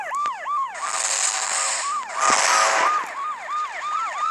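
In a video game, wailing police car sirens rise and fall repeatedly in a loud, continuous cycle, layered with a rushing engine-like roar and no talking.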